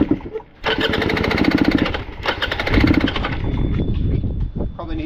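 A Beta twin-spark motorcycle engine is started with a loud, broadband mechanical rush after a brief pause, cutting out and catching again, close by and dominating, with some faint voices mixed in.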